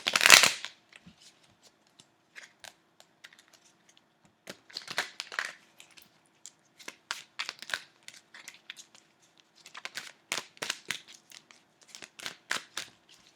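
Tarot cards being shuffled by hand, crisp riffling and flicking bursts that come in clusters with short pauses, close and clear with no talking.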